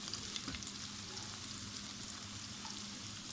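Potatoes fry in a pan as spices are added for a vegetable vermicelli biryani, giving a steady, close sizzle with a soft stir near the start and no talking.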